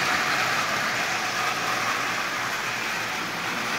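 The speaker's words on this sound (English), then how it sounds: "So this motor is running really well. It's a bit noisy" A prewar Marx 490 chrome toy train motor, assembled from parts, runs steadily while pulling Lionel cars, making a continuous close, slightly noisy whirring hum with even loudness and no speech.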